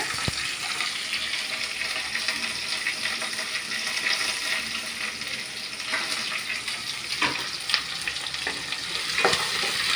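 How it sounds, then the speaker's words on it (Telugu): Onions fry in a pan with a steady, dense hiss of sizzling oil, close and continuous, broken by occasional scrapes and taps of a spoon stirring. "ఇప్పుడు ఆనియన్స్ వేసేసుకుంటున్నా"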